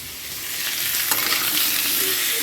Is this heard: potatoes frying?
yes